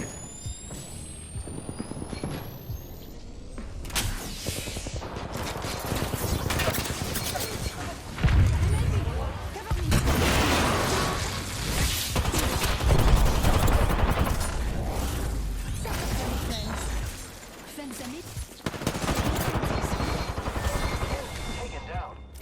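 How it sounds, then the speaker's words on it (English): Automatic weapon bursts and impacts in a fast Apex Legends firefight, loud and sustained over about twenty seconds, with rapid fusillades and booms layered over game chatter and voice lines. "I am taking fire, friends."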